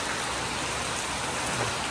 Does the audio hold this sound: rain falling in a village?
yes